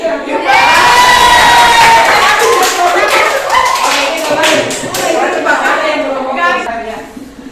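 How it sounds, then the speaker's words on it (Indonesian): Classroom of pupils clapping hands on a teacher's instruction, loud rhythmic bursts mixed with children's shouting and chanting voices throughout. "Tepuk tangan lagi, Pak."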